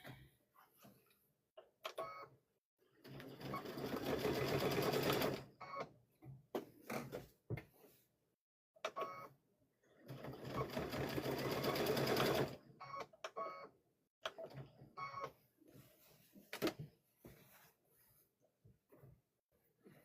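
A sewing machine stitches a quilted Halloween tote bag in two long runs of steady mechanical whirring, each lasting a few seconds, with quieter handling clicks and pauses between them.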